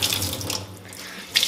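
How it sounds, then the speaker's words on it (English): Kitchen tap running onto a sponge as it is rinsed and squeezed, a close steady splashing stream of water with a brief louder gush near the end. "Squeeze the sponge, soak up as much water as possible, rinse it out."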